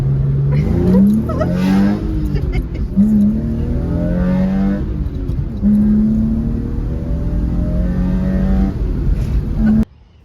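A BMW E36 with a manual gearbox revs up hard through several gears, the pitch climbing and dropping at each shift, loud and close, then cuts off abruptly.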